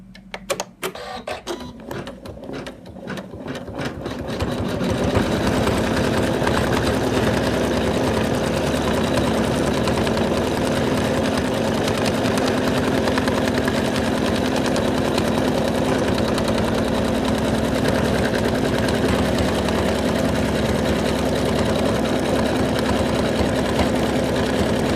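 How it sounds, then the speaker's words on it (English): An embroidery machine sews decorative stitching around a Santa doll's hat rim and beard. A brief stop-start patter gives way to a continuous, loud, steady mechanical hum and rapid needle chatter that runs unbroken to the end, with nobody talking. "It's done all the decorative stitching around the rim of the hat and the beard"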